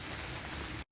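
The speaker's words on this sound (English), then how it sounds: "the rain's just not letting up at all" Heavy rain falling outdoors beside a polytunnel, a loud dense steady hiss that stops abruptly at the end, with no voices.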